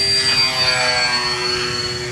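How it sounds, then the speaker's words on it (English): A Dynam Cessna 310 Grand Cruiser RC model airplane flies nearby, its electric motors giving a steady, loud, high-pitched whine with strong tonal hum that persists throughout without talk. "Sounds like an angry plane though when it's flying around."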